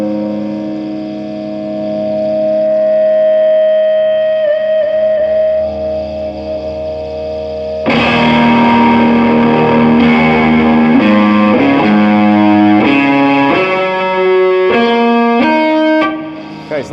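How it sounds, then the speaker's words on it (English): A distorted electric guitar, a Fender Masterbuilt Stratocaster, swells into sustained, singing feedback tones, then loud overdriven notes ring out one after another, close and heavy. "let's see what the feedback's like"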